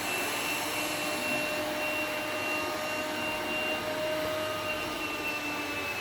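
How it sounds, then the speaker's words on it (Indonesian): A Yeedi robot vacuum runs at raised suction over carpet, giving a steady, fairly faint whirring hiss with faint tonal whines held throughout and no talking. "ini dia mendeteksi ada karpet, dia langsung meningkatkan suctionnya ya untuk menghisap lebih keras"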